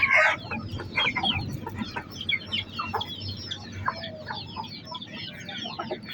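Many young gamecock chickens cluck and chatter together over a steady hum of background noise, a busy flock close by.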